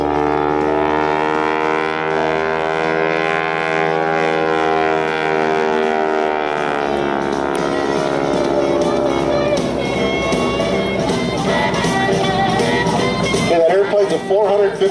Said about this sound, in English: A 450 horse radial engine on it.